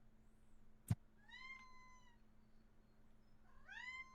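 A cat meows a few times, drawn-out rising and falling cries with a sharp knock between them, clear and close over a quiet low hum, with no speech.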